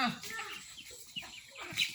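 Chickens clucking at a Thai market while being fed at night, short clucks and squawks mixed with nearby talking.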